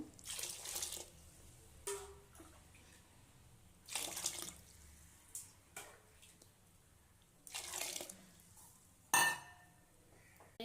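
Water runs from a tap in several short bursts, splashing into a cooking pot, with a faint clink near the end.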